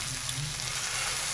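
Fish pieces frying in a pan on moderate heat after being flipped, giving a steady, close sizzle with a continuous crackling hiss and no talking.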